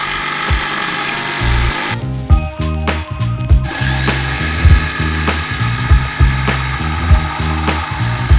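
A power saw cutting a notch into a wood panel for a truck camper's fixed bed platform, a loud close buzzing whine interrupted by brief pauses and knocks as the blade starts, stops and bites again.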